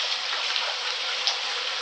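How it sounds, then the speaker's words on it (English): Water runs steadily through a shower cartridge during a DIY repair, a continuous hissing flow at moderate level with no other sounds over it. "water coming through there"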